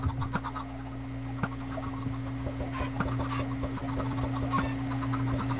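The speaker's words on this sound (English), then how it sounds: "No, I'm spotting chickens." Chickens clucking repeatedly in a Minecraft multiplayer survival world, several short clucks scattered over a steady low background hum, moderately close.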